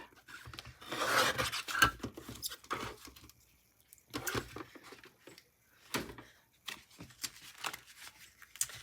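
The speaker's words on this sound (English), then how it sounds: "So I have an old Creative Memories trimmer here." An old Creative Memories paper trimmer slices through paper in repeated rasping strokes, close and moderately loud, with short pauses between passes and no talking.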